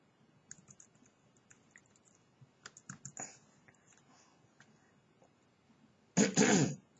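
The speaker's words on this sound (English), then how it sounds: "I'm clearing my throat" Soft keyboard typing and scattered clicks come first. Near the end, a person clears their throat once with a loud, rasping burst that lasts about a second.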